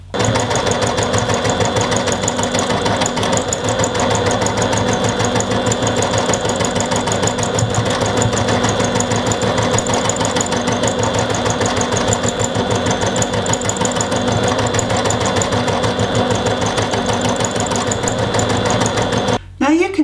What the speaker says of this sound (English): As much of this free motion stitching as you like.